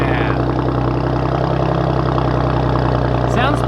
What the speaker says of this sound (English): I wouldn't leave you guys without the last cold startup with the current exhaust setup